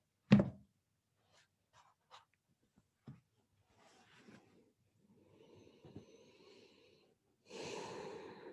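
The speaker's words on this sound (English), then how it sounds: "Keep breathing in deep breaths." Deep, slow breaths during a guided breathing meditation, a sharp inhale at the start followed by quieter breaths and a long, loud exhale near the end, close and intimate with no talking.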